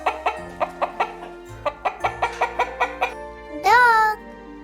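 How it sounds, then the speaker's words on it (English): A hen clucks in a quick series of short rhythmic clucks, close and clear, followed by a brief rising squawk-like call. "This is a hen."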